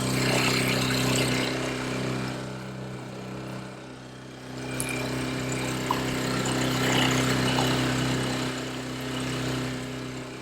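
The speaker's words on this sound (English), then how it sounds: "this engine is pushing it along with ease" Tohatsu Sail Pro outboard engine pushing a Venture 23 sailboat, a steady droning hum with a low throb that holds at an even level throughout, close and unbroken, with no talking.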